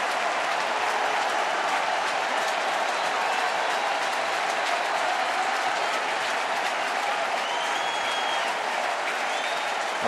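Large crowd at a Giants vs. Nationals playoff baseball game cheering and applauding in a continuous, dense roar that fills the whole stretch, loud and unbroken.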